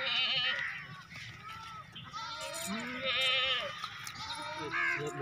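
Nanny goats with their young kids bleat at a goat sale, the kids suckling from their mothers. Several wavering bleats come close together and overlap, with people talking over them.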